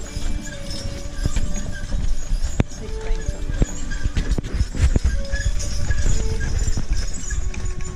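Horse hooves of a horse-drawn carriage clip-clop in a steady walking rhythm on a road in Maine, close by, with faint background noise and occasional sharp knocks.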